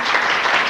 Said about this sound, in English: y'all give the brother a round of applause